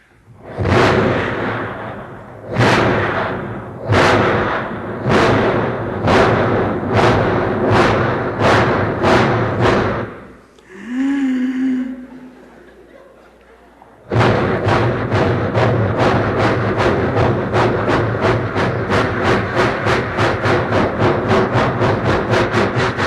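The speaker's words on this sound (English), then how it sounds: "Here are the nostalgic sounds of this old giant locomotive which has passed into history." An old giant steam locomotive pulling a long train, loud close chuffing exhaust beats, slow and heavy at first, then after a brief hiss and whistle-like pause a fast, steady rapid chuff rhythm.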